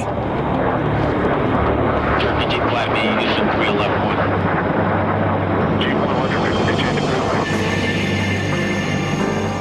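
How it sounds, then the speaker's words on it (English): Lockheed Senior Trend stealth aircraft on a test flight over the Nevada desert, a steady loud broadband roar of engine and airflow that holds throughout without breaks, with faint tonal whine appearing toward the end. "Trend aircraft is prepared for its first flight over the Nevada desert."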